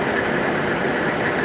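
A vehicle engine idles steadily with the parking brake released, a constant low rumbling drone with no change in pace across the short stretch.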